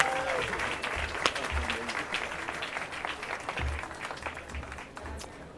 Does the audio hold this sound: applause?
yes